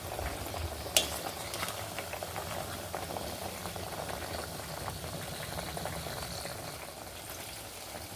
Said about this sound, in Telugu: ములక్కాడల్ని వేయించుకోవాలి.